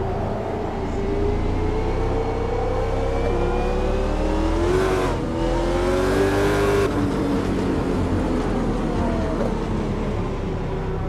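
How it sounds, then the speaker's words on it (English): A raspy Corvette C8 engine revving on a race track, loud and continuous, with rising and falling rev sweeps and a brief surge in the middle of the stretch, no talking over it. "How raspy like this Corvette C8 sounds."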